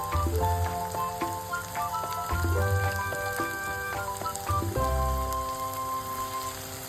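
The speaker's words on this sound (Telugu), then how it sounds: "కొబ్బరిని కూడా మంచిగా ఫ్రై చేసుకోవాలి ఆయిల్లో, అప్పుడే టేస్ట్ బాగుంటుంది" Sliced ridge gourd and coconut powder fry in hot oil, giving a steady, close sizzle, while bright tonal notes of background music play above it throughout with no talking.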